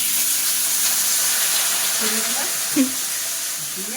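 Water hits a hot pan and sets off a hissing sizzle that fades out to a low steamy crackle, with a soft knock near the end.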